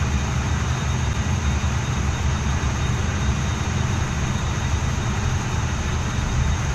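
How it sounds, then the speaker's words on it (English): Engine 1 of a Dash 8 turboprop spinning up in a flight simulator game, giving a constant, close roar of broadband whine and deep rumble at an even level from start to finish. "Start engine 1."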